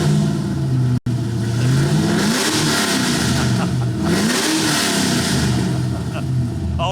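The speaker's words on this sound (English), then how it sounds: "the exhaust goes from mild to wild" A Hennessey Performance car's exhaust revs hard and close, engine pitch sweeping up and falling back in repeated surges, with a brief cut near the start and people talking over it.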